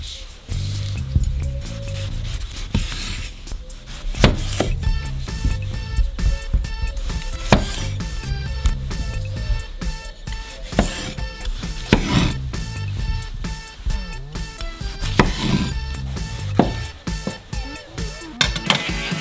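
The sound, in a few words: knife cutting fresh tomatoes in half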